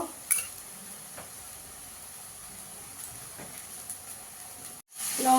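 Ginger, onion and garlic masala sautéing in a pan for malai chicken gives a steady, close, hissing sizzle, with a few faint stirring scrapes, no voices.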